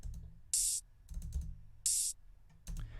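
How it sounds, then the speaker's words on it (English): Two bright, sustained hissing metallic hits spaced well apart, each ringing briefly, with soft low clicks and thumps between them. "open hi-hat,"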